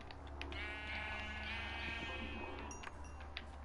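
Minecraft sheep bleating in the video game, a single quavering bleat over a low steady background hum, fairly faint, with no talking.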